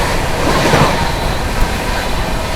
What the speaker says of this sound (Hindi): Skipping Shikohabad Junction and overtaking Kafiyat Express.